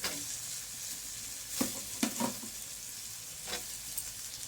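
Thin-sliced potatoes dropped into masala frying with tomato sauce for a prawn and potato curry, a steady low sizzle punctuated by a few clattering stirs.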